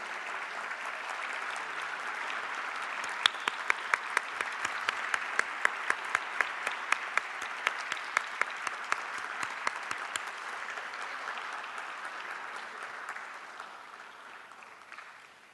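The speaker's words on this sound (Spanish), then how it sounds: "Brindemos un caluroso aplauso nuevamente por estas lindas poesías" Audience applause after poetry readings at a Gabriela Mistral centenary tribute in Mexico, a sustained wash of many hands clapping with a few crisp nearby claps, gradually thinning toward the end.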